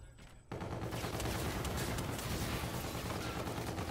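Video game gunfire erupts after a brief quiet start, a loud sustained burst of rapid automatic shots filling the rest of the moment.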